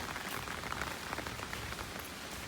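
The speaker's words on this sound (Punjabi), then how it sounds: "ਮੋੜ ਮੋੜ ਕੇ ਮੀਂਹ ਆਉਂਦਾ ਏ" Steady rain pours down continuously, a dense, even hiss of drops striking surfaces nearby with no voices or other sounds.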